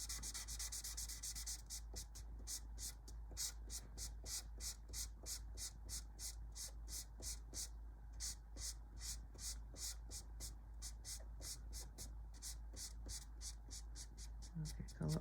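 Chisel-tip marker coloring on paper, quick rhythmic back-and-forth strokes repeating steadily close up, faint and scratchy, with no talking.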